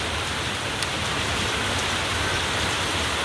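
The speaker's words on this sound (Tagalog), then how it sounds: "Malakas ang ulan." Heavy storm rain pours steadily, a dense, constant hiss of drops hitting surfaces close by at Marcos Village in the rainy season, with no voices over it.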